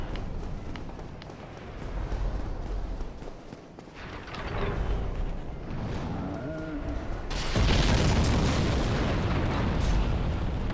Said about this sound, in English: Apologies for all the explosions.